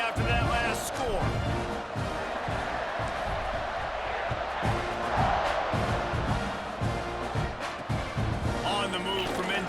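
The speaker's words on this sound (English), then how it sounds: "this crowd is buzzing after that last score" Stadium crowd in EA Sports College Football 26 roars and buzzes loudly and continuously, with cheering swells, under a commentator's voice talking throughout.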